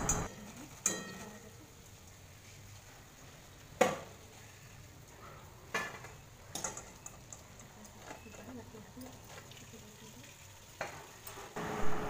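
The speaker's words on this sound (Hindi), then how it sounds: "कलरा को मु भल भाव भाजी हवा को देवी" Bitter gourd (karela) sizzles steadily in hot oil, a low crackling bed broken by a few sharp clinks of a utensil against the pan, with a voice talking over it.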